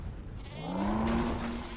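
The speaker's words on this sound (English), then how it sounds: "I like how the sheep are just running away" Sheep in Metal Gear Solid V: The Phantom Pain bleat in one long, wavering cry rising over a low rumble of ambient noise, fairly close and clear.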